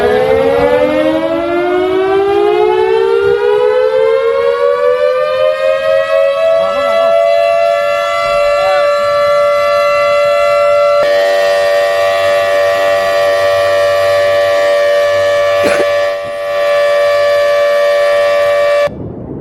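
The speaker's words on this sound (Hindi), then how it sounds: "ये हूटर जो आप सुन रहे हैं, ये हूटर इसलिए है कि जिससे कि आसपास के रिहायशी इलाकों में रहने वाले लोग सचेत हो जाए।" A flood warning hooter siren blares continuously to alert nearby residents after cloudbursts in Kullu, Himachal Pradesh, its tone rising at first and then holding a steady, loud wail throughout.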